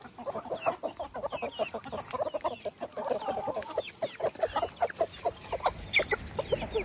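A group of farmyard chickens clucks busily while eating, with rapid, overlapping, close clucks and soft peeps forming a continuous chatter without any talking.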